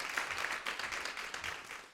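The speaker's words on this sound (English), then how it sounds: "Applaud for all of them, because they're amazing" Audience applause at a panel event on the cannabis industry, a brief burst of many hands clapping together, moderately distant and steady with no talk over it.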